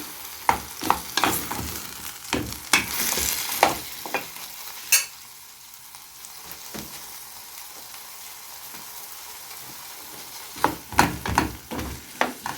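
Okra sautéing in a pan for a meat-and-okra stew, a steady sizzle broken by sharp scrapes and clatters of stirring, busy at the start and end with a quieter stretch of frying in between.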